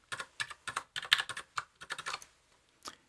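Someone types an email address and password on a computer keyboard. The keystrokes come as close, crisp clicks in quick, irregular bursts, with a pause before a final key press.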